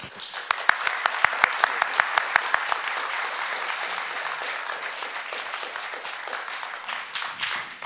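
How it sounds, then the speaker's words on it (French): Audience applause at a tribute evening honouring Romain Gary: a few crisp individual claps at first, swelling into steady, dense clapping from a full room that carries on evenly to the end. "Merci beaucoup, on va vous applaudir."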